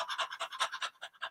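A person does rapid panting through the nose as a breathing exercise, imitating a dog, with about ten quick, even, close-up breaths in a row.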